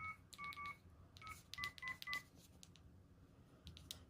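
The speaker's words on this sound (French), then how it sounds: "je vais devoir composer son numéro" Dialing tones come from a flip phone: a series of short beeping key tones in quick irregular bursts, clear and close, with faint handling noise and no speech.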